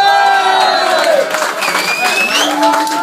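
Concert audience applauding and cheering loudly, with dense clapping, shouts and whistles rising and falling throughout, a lively, close crowd roar.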